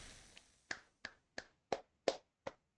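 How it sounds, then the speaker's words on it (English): One person claps their hands six times at close range. The sharp, separate claps come at a steady pace and grow slightly louder toward the end, with no talking. "Let me give some applause."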